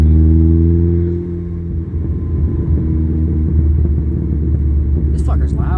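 A loud turbocharged car engine rumbles and holds under brake boost for a launch at a car meet, a heavy steady low drone with a brief pitch drop, and people talking over it.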